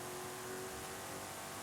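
MG X-Power SV-R with 1,400 brake horsepower and drag tyres accelerating on a drag strip in Forza Horizon 5, producing a dense, sustained engine roar with a steady high whine throughout.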